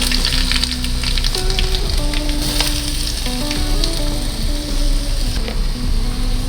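Mustard seeds and cumin splutter and crackle in hot oil in a pan for curd rice, a dense, loud, continuous sizzle with scattered sharp pops throughout.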